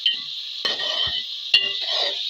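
Chicken with ginger-garlic paste frying in a pan gives a continuous bright sizzle, broken by two sharp scrapes of a spoon stirring against the pan.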